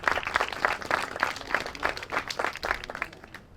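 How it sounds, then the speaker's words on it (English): A small audience applauds steadily for a few seconds at a high school groundbreaking ceremony, the claps blending into an even patter that fades slightly at the end. "please give him a round of applause for joining us today"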